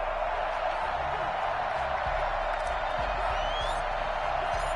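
Sellout stadium crowd in an American football video game, Falcons versus Raiders, a steady distant roar of cheering and whooping with scattered claps, sustained and fairly even under a commentator's voice.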